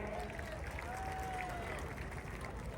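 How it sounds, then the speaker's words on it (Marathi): Steady applause and cheering from a large crowd at an outdoor wrestling bout, continuous and loud throughout, with a voice talking over it. "त्या गरिबासाठी टाळ्या करावं सर्वांनी"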